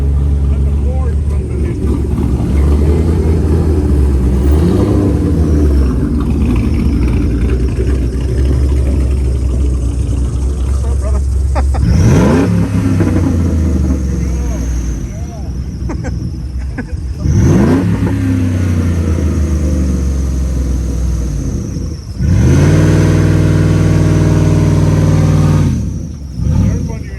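A Ford car at a Coffee and Cars meet in Oklahoma City idles and revs near the microphone, with deep engine rumble and several rising surges as it pulls up and drives past, while people talk throughout.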